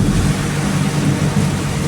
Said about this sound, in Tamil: சரியான மழை காட்டு காட்டிகிட்டு இருக்கு.